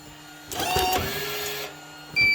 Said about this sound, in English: you can then push your manual cut button